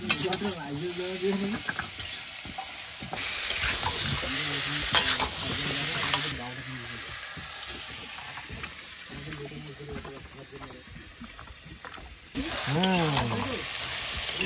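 Fish curry masala fries in a pan and is stirred, giving a steady sizzle with scraping passes of the spatula that rise and fall in loudness, while a voice talks over parts of it.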